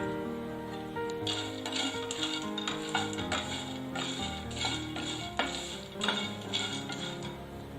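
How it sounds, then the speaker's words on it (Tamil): Peanuts dry-roasting in a pan as a snack and being stirred, giving repeated scraping and rattling strokes at an uneven rhythm over a steady tonal background. "இதில் கடலையே அதே மாதிரி ஒரு 5 நிமிஷம் நம்ம வறுத்தெடுத்தா போதும்."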